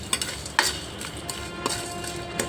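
Whole spices dry-roasting in a hot pan for gongura chicken, with a spatula scraping and stirring them in a soft, steady rustle broken by a few sharper clicks of utensil on metal.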